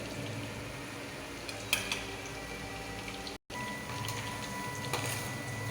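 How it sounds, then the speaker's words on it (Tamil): Boondi batter dropped through a ladle into hot oil for laddu, a steady soft sizzle and crackle of frying throughout, with a couple of faint clinks and a brief dropout in the middle. "இது மாதிரி கரண்டியில் விட்டு முத்து முத்தாக பிழிஞ்சிக்கிறேன் எண்ணெயில்"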